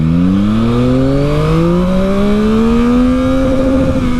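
A 2021 Yamaha MT-09 SP motorcycle engine pulls hard through the revs, its loud, close rising whine sweeping upward steadily and then holding near the top, alone with no talk.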